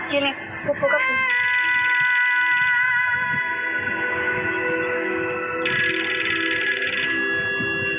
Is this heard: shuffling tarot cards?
no